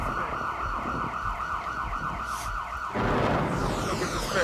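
A police siren wails continuously, rising and falling in a steady cycle, loud and close with no voices over it.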